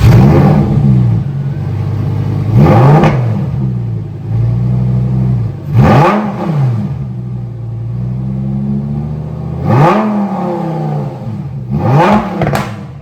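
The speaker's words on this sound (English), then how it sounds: "I was actually very nervous to actually rev this car because everyone's going to hear it" A Lamborghini Huracan EVO RWD heard from outside as its engine is blipped four times, each rev a loud rising-and-falling roar over a steady idle rumble, with no talking.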